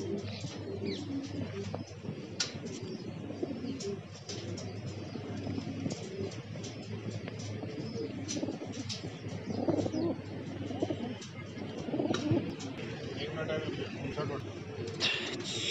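Pigeons released at a pigeon-flying competition in Delhi coo and flutter among steady crowd noise, with sharp claps and rustles throughout. Several people talk over the scene.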